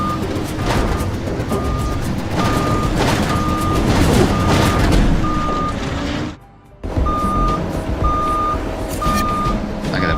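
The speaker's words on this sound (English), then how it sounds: "I got a buzzer going off here." A warning buzzer in a logging machine cab beeps in regular short pulses over the loud, steady roar of the machine's engine, with a brief drop in noise partway through.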